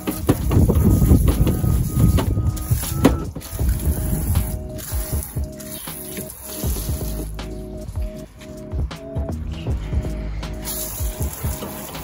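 Low-pressure water spray washing down a 4WD engine bay, a steady hissing wash with splashing and dribbling water, strongest at the start and continuing at a moderate level without talk.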